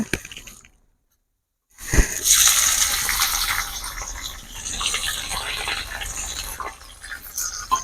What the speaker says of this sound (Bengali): আঁচ একটুখানি বাড়িয়ে দিলাম আঁচটা দিয়ে পেঁয়াজগুলো আমি লাল করে ভেজে নেব